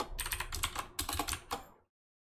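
Keys on a computer keyboard clatter in a quick run of presses and taps during video editing, close and clear, then the sound cuts off into silence.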